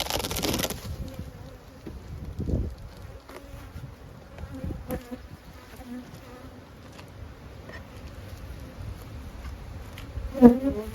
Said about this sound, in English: I've got 7, almost 8 frames of bees.